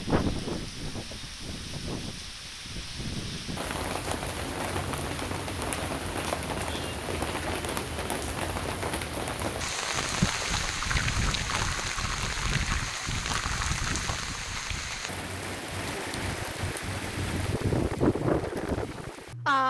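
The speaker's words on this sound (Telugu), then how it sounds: "ఈ వాన ముచ్చట్ని ఓ మల్గా చూసేసొద్దాం రాన్రి." Steady monsoon rain pours down in a continuous, dense hiss, with gusts of wind buffeting the microphone throughout.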